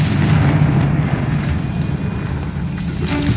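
Confringo blasting curse explosion in the video game Hogwarts Legacy: a loud, sustained booming blast with deep rumble and crackling debris, close and dense throughout.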